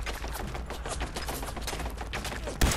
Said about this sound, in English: Institute rifle.